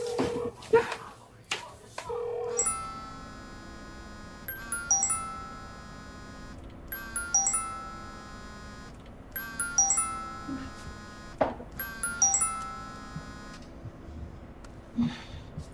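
A mobile phone ringtone repeats in bursts of bright chiming tones, ringing on unanswered for several cycles in a quiet room.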